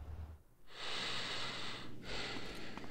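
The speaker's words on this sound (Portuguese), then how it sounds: "CJ respirando alto." Heavy, loud breathing from the character CJ in the video game GTA San Andreas, two long hissing breaths close up, separated by a short gap.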